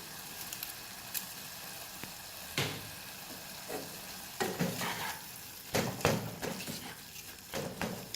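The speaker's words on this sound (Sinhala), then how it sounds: "ඒ වෙලාවේදී මම හැන්දෙන් මේ විදිහට තක්කාලි ටික පොඩි කරගන්න." Tomatoes simmer with a few bay leaves in a pan while a spoon crushes and stirs them, giving a soft steady sizzle broken by intermittent scraping and knocking strokes, close and moderately quiet.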